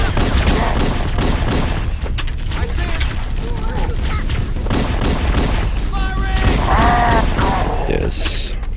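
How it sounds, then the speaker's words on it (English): Rapid sniper rifle shots from Halo: Combat Evolved ring out amid constant game combat noise, gunfire bursts and alien chatter, loud and steady throughout, with a high electronic whine near the end. "I'm like totally wasting these sniper rifle bullets."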